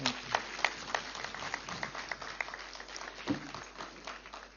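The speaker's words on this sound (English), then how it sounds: "Let's give a huge round of applause." Audience applause after a meditation session at a live event, a soft, steady patter of scattered clapping heard from a distance and fairly faint throughout.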